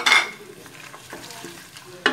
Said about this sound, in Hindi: उसमें हमने ये प्याज को ऐड कर देना है और सोटे करना है